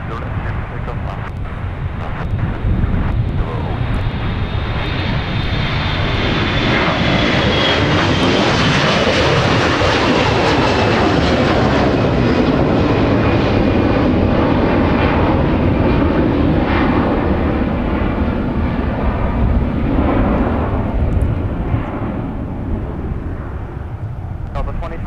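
An airliner takes off from runway 30 left at Minneapolis–Saint Paul airport, its engine roar building to a loud, sustained rumble and whine that holds steady for the whole stretch before easing slightly near the end.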